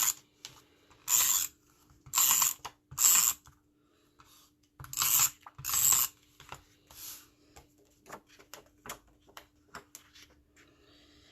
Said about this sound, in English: Now I'm going to put my noisy adhesive, because it's all I could find.